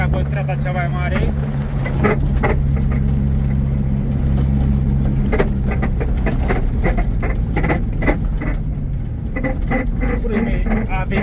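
A Smart fortwo running in its highest gear, with a steady low engine drone and road rumble throughout, overlaid by rattles and clicks, while someone talks over it.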